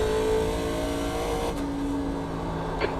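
NASCAR Legends race car engine at Sonoma in iRacing as the driver lifts, brakes and downshifts to second, a steady near engine drone with pitch changes and a brief blip near the end.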